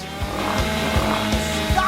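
A saw cuts through a thick layered block of chocolate in a rhythmic series of five rasping back-and-forth strokes, close and steady, with a faint background hum.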